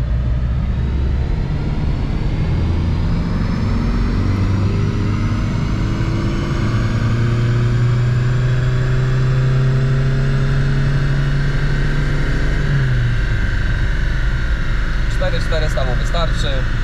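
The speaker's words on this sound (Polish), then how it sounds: "wkręcamy tą maszynę na 4500 obrotów" A VW Caddy 2.0 TDI DFSD diesel rated 102 hp, pulled on a chassis dynamometer toward 4500 rpm, climbs in a long rising engine drone, then drops off abruptly as it winds down, with people talking over it.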